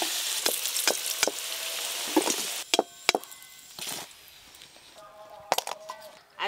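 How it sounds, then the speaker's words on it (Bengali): Potatoes fry in a pan with a steady, close sizzle, broken by sharp clacks of a spatula or spoon against the pan. "আলুগুলো খুব ভালো করে ভেজে নিয়েছি"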